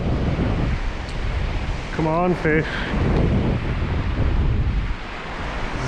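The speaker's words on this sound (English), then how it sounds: "Here comes the water. Tide's pushing now." Surf from an incoming tide washes onto a UK beach during cod fishing, a continuous near roar with wind buffeting the microphone and a brief spoken line in the middle.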